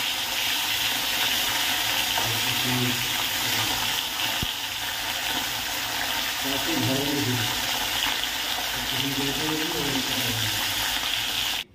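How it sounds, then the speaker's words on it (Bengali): Oil sizzles and crackles steadily in a pan, a continuous frying hiss with occasional soft clatters and faint murmuring in the background. "আর একদিকে মাছ ভাজছি"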